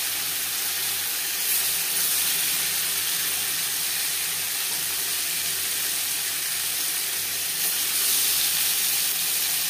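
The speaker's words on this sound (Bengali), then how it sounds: "পনির আমি হালকা করে ভেজে নেব।" Paneer cubes frying in hot refined oil with salt in a kadai, giving a steady, loud sizzle and hiss that runs unbroken throughout with no talking.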